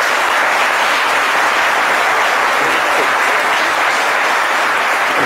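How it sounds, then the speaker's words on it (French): Applause fills a church or revival gathering as the congregation claps to acclaim the Lord, a dense, steady wash of many hands, loud and close, with no voice over it. "aidez-moi à acclamer le Seigneur"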